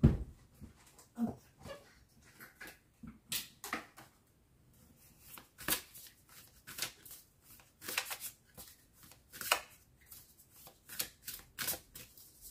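Tarot cards shuffled and drawn by hand, a string of close, crisp riffling and slapping bursts with short pauses in between, in a quiet room.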